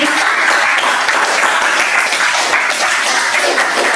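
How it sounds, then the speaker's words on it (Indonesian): A classroom group of students claps together in a continuous, loud burst of applause, a steady wash of many hands lasting several seconds. "Tepuk tangan dulu biar"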